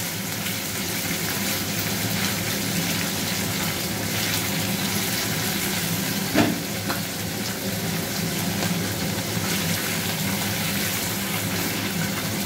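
Cubes of paneer, 200 grams cut large, frying briefly in oil in a pan, giving a steady, even hiss and sizzle throughout with a small clatter partway through, and no talking.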